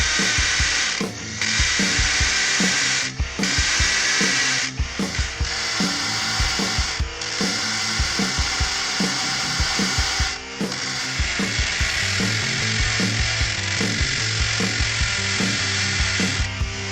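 A drill with a 3/4 inch bit starts holes in steel for a belt grinder post stand, a loud, steady grinding whir with brief pauses and a rhythmic tonal backing underneath.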